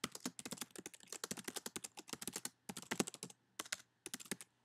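Rapid typing on a computer keyboard, close and clear, with bursts of keystrokes broken by short pauses and no talk.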